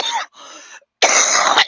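A person clears their throat and coughs because of allergies, producing three loud, harsh rasping bursts close by, separated by brief pauses.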